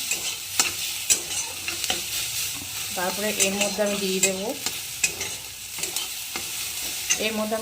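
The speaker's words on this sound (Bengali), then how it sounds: "এখানে টমেটোটা আমি একটু ভেজে নিচ্ছি, একটুখানি সিদ্ধ করে নিচ্ছি" Tomatoes fry in a pan as a utensil stirs them, a steady sizzle broken by repeated scraping clicks, with someone briefly speaking over the cooking.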